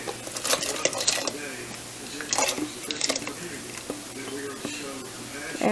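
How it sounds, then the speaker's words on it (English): Canned black beans and corn tip into a pot of homemade tortilla soup with soft wet plops, spoon scrapes and clinks against the pot, while a person talks throughout. "I'm going to take first and add the black beans and corn."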